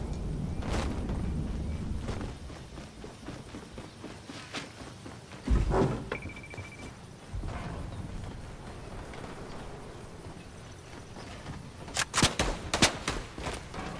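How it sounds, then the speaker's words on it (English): Scattered gunfire in a Fortnite duos match, sporadic sharp shots over a busy background, with a louder cluster of rapid cracks near the end. "We're getting shot at."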